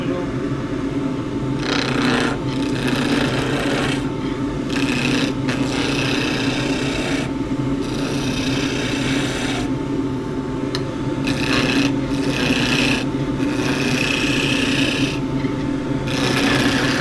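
Skew chisel roughing down a rosewood handle blank on a wood lathe. Steady continuous scraping and rasping runs throughout, with a constant motor hum beneath and brief breaks where the cut pauses.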